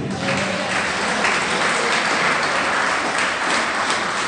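Congregation in a church breaks into loud, continuous applause, a dense steady roll of many hands clapping together with no voices standing out.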